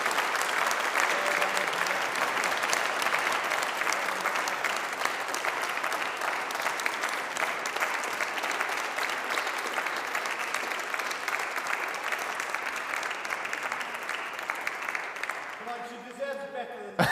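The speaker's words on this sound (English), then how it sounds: "if we give a big round of applause" A big round of applause for the winning designer at a flag unveiling in Bothwell, steady crowd clapping sustained for about sixteen seconds before fading out at the end.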